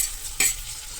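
Finely chopped tomatoes with kasuri methi frying in a pan, a soft steady sizzle broken by one brief scrape of stirring, close and quiet with no talk.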